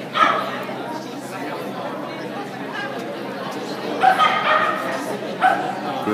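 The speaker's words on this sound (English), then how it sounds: "She's barking." A dog barks and yips during a Jumpers run at an agility trial, with short sharp barks rising over a steady noisy background while a handler's voice talks and cheers nearby.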